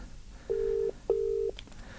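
A WhatsApp call rings out as two even, steady electronic ringback tones, each lasting under half a second with a short gap, fairly quiet over a faint background hum.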